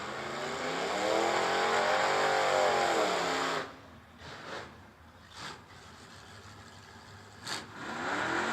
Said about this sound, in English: Atkinson rolling up left-hand side, the Nova.